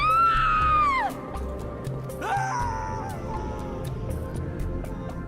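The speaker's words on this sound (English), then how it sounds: "Miranda Keyes has a male Marine scream" In Halo 3, Miranda Keyes falls and lets out a male Marine's scream, a loud falling wail that bends downward. A second, shorter cry follows over steady game background noise.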